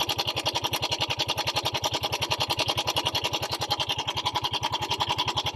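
Yamaha Mio Soul i 125 scooter engine running with a loud, rapid, steady mechanical ticking over its idle, close and alone with no talk.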